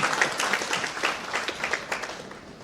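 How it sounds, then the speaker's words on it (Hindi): Audience applause at a motivational talk held at Apollo International Hospital in Ahmedabad, a dense continuous wash of many hands clapping at moderate level, steady throughout and tapering slightly at the end, with no voices heard over it. "अपने लिए ताली बजाइए।"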